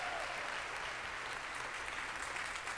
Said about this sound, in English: Give the Lord a round of applause.